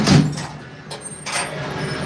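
The watertight door of an amphibious bus-boat closes during a San Diego tour, giving a loud close thump followed by a sliding, hissing rush and a second shorter slide, with no talking.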